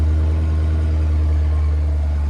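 A work truck engine idles after a cold start, holding a steady, loud low rumble with an even tone throughout and no voices.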